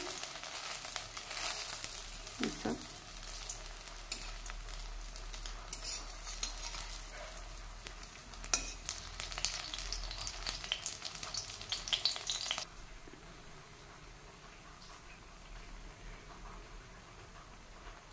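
Aparajita (butterfly pea) flower fritters crackle in hot oil as they are turned in a pan, a busy sizzle with spatula scrapes that drops to a softer, quieter hiss partway through.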